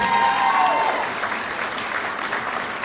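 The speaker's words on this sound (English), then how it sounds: "Give Claudia a round of applause." Loud applause from a pageant audience at a Rose of Tralee regional event, a dense patter of many clapping hands that carries on steadily throughout, close and without talk over it.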